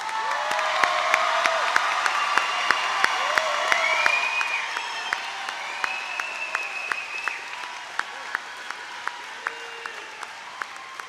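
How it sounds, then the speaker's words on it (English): Applause for the graduates at the Cast Tech High School Class of 2024 graduation ceremony: sustained crowd clapping with sharp individual claps standing out, mixed with high whistles and cheers that rise and fall before thinning toward the end. "Let's get one more applause for all the graduates."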